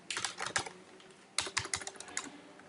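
Someone types on a computer keyboard while working with Node.js, two quick bursts of clicky keystrokes separated by a short pause, close and fairly quiet with no talk.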